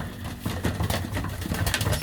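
Pigeons coo softly in a loft, a low murmuring chorus of overlapping calls with faint rustling, steady and moderately close throughout.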